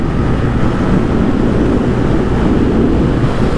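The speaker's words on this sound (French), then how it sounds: "il y a du vent" Strong wind roaring and buffeting steadily on a motorcycle ride, a constant low rumble with no voices.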